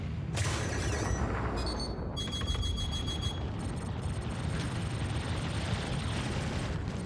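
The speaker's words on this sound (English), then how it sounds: "Soften them up with some missiles." Missiles launching and exploding in Star Citizen space combat from an F7C-M Hornet fighter, heard as a dense rumbling roar with repeated sharp blasts and whooshes, loud and continuous throughout.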